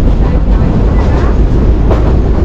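Local passenger train on the Santahar to Nashratpur line, a loud, steady rumble and rattle of the carriage from inside, continuous and close.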